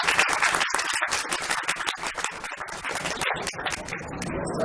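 Audience applause welcoming a BSF (Border Security Force) dog squad onto the stage at a stunt display: dense, sustained clapping from a large crowd, loud and steady throughout with no talk over it.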